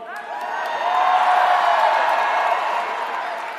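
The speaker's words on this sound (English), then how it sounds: "You're a very supportive crowd." A large crowd at a Bernie Sanders 2020 launch rally in Chicago cheers and applauds, a dense, steady roar of clapping and whoops swelling and holding for several seconds without a lone voice.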